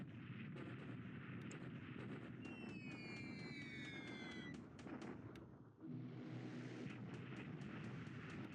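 Several B-17 bombers drone overhead in a World War II game set in 1942, a steady engine rumble layered with distant booming gunfire and a brief dip before the roar resumes.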